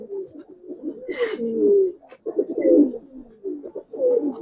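Close, steady cooing from Giribaz pigeons, rolling low phrases repeated several times with a brief sharp noise early on and small pauses between calls.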